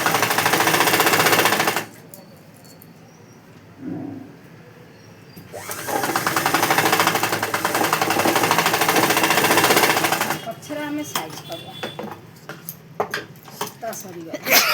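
A sewing machine stitching a blouse in a tailoring shop, whirring in loud sustained runs that stop and restart, with quieter pauses between and a voice speaking at times.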